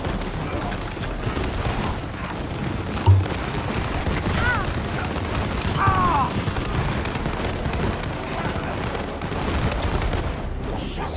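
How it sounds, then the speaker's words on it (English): Hershey Kiss bombs going off in the game It Takes Two, a dense crackling run of small blasts and pops that keeps going under excited talking. "Dude, that's so many little Hershey Kiss bombs."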